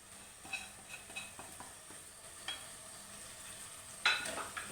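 Spices and asafoetida frying in oil for a fish curry, a faint sizzle under repeated stirring scrapes and light clinks of a spoon in the pan, with a louder scrape toward the end.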